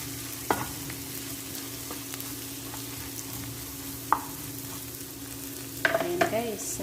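Bangus sisig with a splash of liquid seasoning frying in a pan, a steady low sizzle broken by a few sharp scraping stirs of the spatula, clearer near the end.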